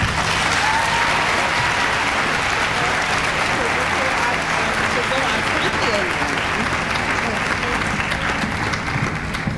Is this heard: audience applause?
yes